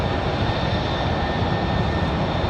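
A UPS cargo plane departing Raleigh-Durham airport at night produces a steady, loud, broadband engine roar that holds constant throughout, with no voices.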